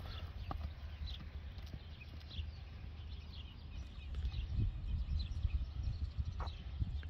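Hooves of a walking Criollo horse clip-clopping in an even rhythm outdoors, with wind noise and occasional distant bird calls.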